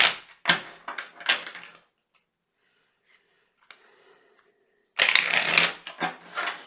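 Tarot cards being shuffled by hand in bursts, a riffling run at the start, a near-silent pause, then a louder, dense flurry of card shuffling at the end, close and with no talking.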